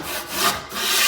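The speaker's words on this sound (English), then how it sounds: "the second coat of mud is the one I'm gonna start sanding down with the sandpaper on a stick" Sandpaper on a pole sander scraping back and forth over a second coat of drywall mud, two or three quick abrasive strokes close up, with no talking.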